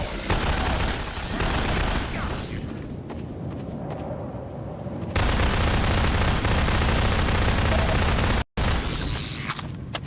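Bursts of rapid gunfire in Half-Life 2 on PS3, loud and dense, one abrupt cut of silence near the end before the shooting resumes.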